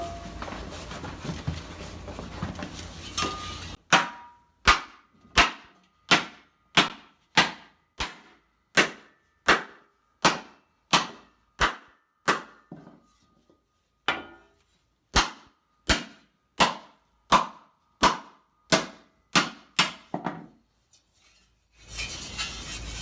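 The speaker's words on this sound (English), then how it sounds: "Just hammer out all these crinkles." Metal armor helmet being hammered out to remove crinkles: a long run of sharp, evenly spaced metallic hammer blows, loud and close, with a short pause midway and a hum at start and end.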